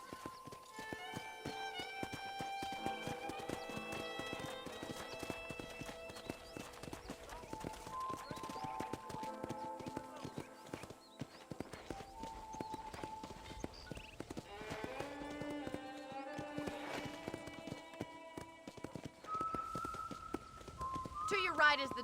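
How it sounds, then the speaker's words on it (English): Horse hooves clip-clop at a steady riding pace in the Red Dead Redemption video game, layered under a game music score with occasional horse whinnies and a narrator talking throughout. "let's see if you can still ride a horse."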